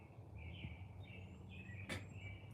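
Birds chirping outdoors, faint thin calls and short tweets over a low steady hum, with a brief sharp broadband click near the end.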